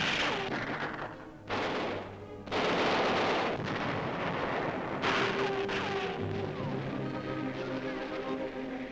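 A tank hits a Japanese land mine in archival wartime newsreel sound: heavy, loud explosive bursts and booming rumbles follow one after another, with no gaps of quiet.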